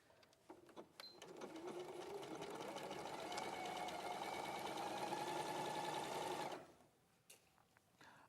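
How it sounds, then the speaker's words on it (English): A sewing machine stitches a dress seam in one steady, fast whirring run of about five seconds, close and clear, starting and stopping with a few soft clicks on either side. "now I can flip it over and sew the other side from the top to the bottom"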